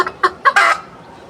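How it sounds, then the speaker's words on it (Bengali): A black desi hen gives several quick, loud clucks in a rising burst, close by, then falls quiet. "কালো মুরগি আনছি আমি আওয়াজ প্রচুর আওয়াজ করে"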